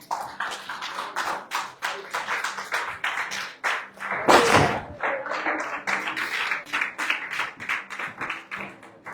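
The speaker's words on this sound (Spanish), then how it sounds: "Dele un aplauso al Señor, hermano." A church congregation claps in praise, close, uneven handclaps in a loose rhythm with some louder bursts, a brief thump partway through.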